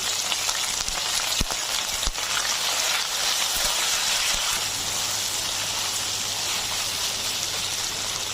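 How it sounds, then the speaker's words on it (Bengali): Ginger and garlic paste fries in a pan for bhuna khichuri, giving a steady, dense sizzle that hisses evenly throughout, with a few brief clicks from a utensil and no speech. "আদা এবং রসুন বাটাটা আমি একটু ভেজে নিলাম"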